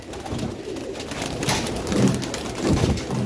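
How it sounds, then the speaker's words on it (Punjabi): Pigeons cooing in a soft, low, continuous murmur, several birds at once with overlapping calls, fairly close and steady. "ਵੇਖੋ ਕਬੂਤਰ ਅਣਗਿਣਤ ਕਬੂਤਰ ਆ ਰਿਹਾ ਜੀ"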